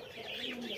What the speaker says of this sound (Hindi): यहाँ पर भी बैठे हैं चिड़िया